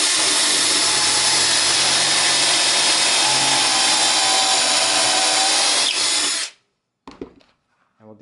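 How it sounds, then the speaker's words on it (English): A power drill bores pocket holes into the ends of cut barn wood boards, running loud and steady for about six seconds before cutting off, followed by a few brief knocks and handling sounds. "now I'm going to drill a pocket hole into each end to make it easier to connect them"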